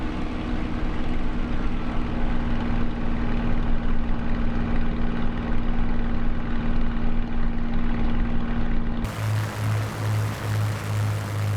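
A Spitfire Mk IXc propeller engine in Microsoft Flight Simulator drones steadily and loudly, a constant rumbling roar that shifts to a pulsing, lower throb near the end.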